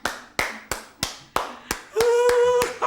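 A person claps hands six times in a slow, even rhythm, each clap sharp and close, followed by a sustained tonal sound.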